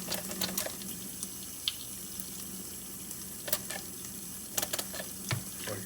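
Tap water runs steadily into a sink while a Thiers Issard straight razor is being sharpened, a soft, continuous hiss at low volume broken by a few small clinks and splashes.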